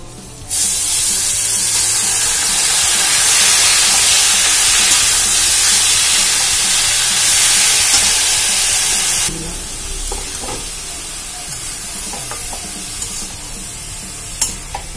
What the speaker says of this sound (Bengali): এবার দিয়ে দিচ্ছি কেটে রাখা মূলো।